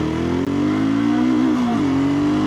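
A BSA Scrambler 650 motorcycle accelerating hard, its engine note rising in a loud, continuous, close roar with a brief dip partway through as the revs climb again.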